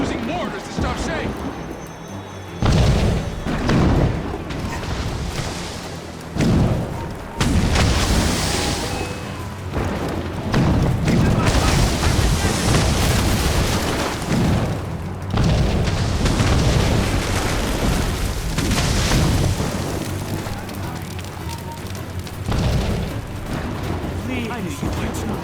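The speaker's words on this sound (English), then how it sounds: "Chevalier's using mortars to stop Shay!" Mortar shells explode one after another in an Assassin's Creed Rogue naval battle, several heavy booms rolling out at intervals under loud rumbling action while characters shout and talk over them.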